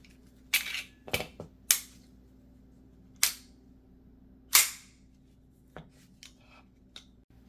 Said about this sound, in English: taking the magazine out and checking for an empty chamber